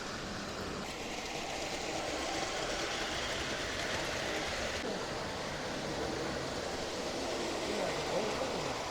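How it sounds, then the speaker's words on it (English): A model railway locomotive runs on a portable layout at a model and transport festival, giving a continuous low rumble and whir under steady hall ambience and background crowd chatter. "And just look at this loco coming round."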